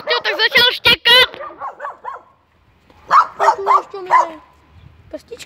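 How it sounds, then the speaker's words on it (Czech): A small dog barks and yips in quick bursts, a rapid cluster of loud close barks followed after a short pause by a few more, higher and whiny, with no talk over them. "jsme objevili pejska a teď, když se to spustil, tak začal štěkat"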